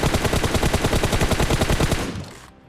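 Rapid automatic gunfire in a battle royale video game, a loud sustained burst of evenly spaced shots lasting about two seconds before cutting off.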